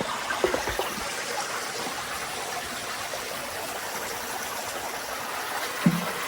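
A village river in the Konkan rushes in a steady broadband wash, with a couple of brief knocks near the start and one near the end.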